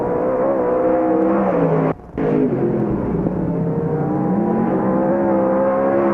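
Race cars roar down the back straightaway at Knox County Raceway, a loud, close, continuous engine drone with shifting pitch and one brief drop in sound, no talk.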